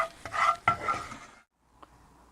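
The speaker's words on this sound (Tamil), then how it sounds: "இந்த சட்னி மீடியம் ஃப்ளேம்லேயே வச்சு நல்லா வதக்கணும்" Garlic chutney sautéed in a pan over a medium flame, with a short burst of close stirring and sizzling that stops, followed by near silence and one faint clink.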